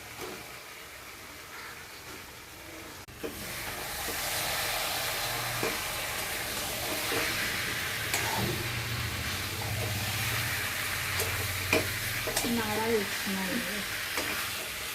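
Potatoes frying and being stirred in a pan, a steady sizzle with occasional scraping under faint background noise and brief voices.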